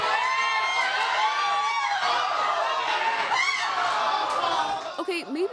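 A packed sports bar full of fans watching a soccer match, with a dense, continuous crowd murmur of overlapping voices and scattered laughter and cheering that swells now and then, heard close around the listener.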